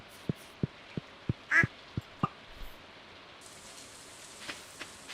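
Duck quacks in Stardew Valley, a single short nasal call standing out over a steady rain-like patter and a series of evenly spaced soft clicks or footsteps, with no talking.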